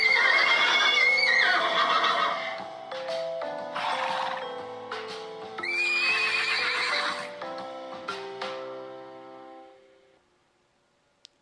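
A horse neighs loudly and close in a long whinny with several shaky rises and falls, then tails off into silence.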